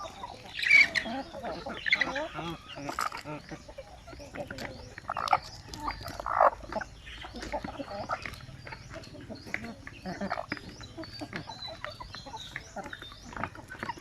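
Native chickens on a Bukidnon egg farm, scattered clucks and short fowl calls at moderate distance among a busy farmyard background, with a few louder bursts near the start and middle.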